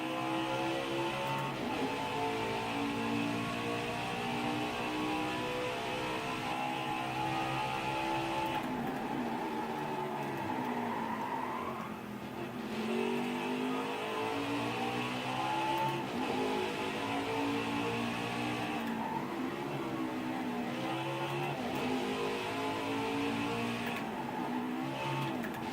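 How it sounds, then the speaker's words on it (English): A NASCAR Xfinity Series race car on the Road America circuit in the NASCAR Heat 5 video game, engine droning and rising in pitch through repeated upshifts and downshifts, loud and continuous with no talking. "Junior guns it back on the throttle now on the home stretch"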